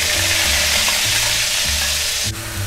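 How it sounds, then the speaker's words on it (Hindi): Cumin seeds and ground onion sizzle loudly in hot oil for dal makhani, a dense continuous frying hiss with rhythmic stirring pulses underneath and a brief dip near the end. "तेल गरम हो रहा है, अब मैं इसमें डालती हूँ 1 चम्मच जीरा, प्याज जो मैंने पीसी है।"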